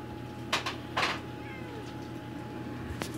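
A cat meows twice in quick succession, fairly close, in front of a heater over a steady low electrical hum, followed by a short sharp click.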